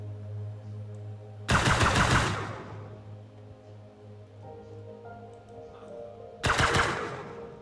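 Two sharp bursts of rapid weapon fire in the space survival game Breathedge, each lasting under a second and rattling loudly over a low steady hum, with a quiet gap between them.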